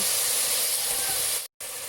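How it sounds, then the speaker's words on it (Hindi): Garlic and ginger dropped into hot oil with browned fried onions in a pan, giving a loud continuous sizzling hiss close up that cuts out briefly near the end and then resumes. "प्याज हमारे भुन गए हैं, इसके अंदर हम लोग लहसुन अदरक डालेंगे।"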